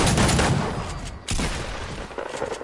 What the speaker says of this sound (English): you're getting sniped, Watch it.